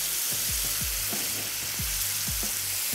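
Tomato puree sizzles and spatters in hot oil in a pan while cooking chana dal gosht, a steady close frying hiss with repeated short crackling pops throughout.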